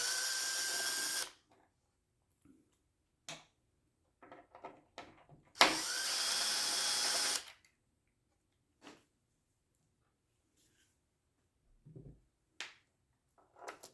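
A power drill with a 3mm hex bit drives screws on a broken Ninebot Segway Max scooter wheel: two loud, steady whirring bursts separated by a quiet stretch of small clicks and taps.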